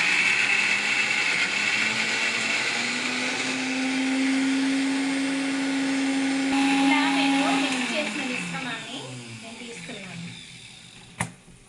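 A kitchen mixer grinder whirs loudly, grinding ginger and garlic into paste, with a steady high motor whine that winds down and stops near the end, followed by a sharp click.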